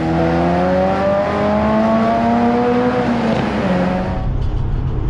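Sprinter van cruising while towing a trailer on a long road trip, a steady engine drone with rising gear tones that shift and fade toward the end, loud and close from inside the cab.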